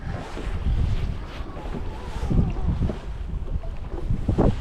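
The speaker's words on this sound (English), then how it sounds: "The wind is picking up and it's making it much more difficult." Wind gusts buffet a small fishing boat on open water, a steady loud rumble with swelling surges and wave wash close to the microphone.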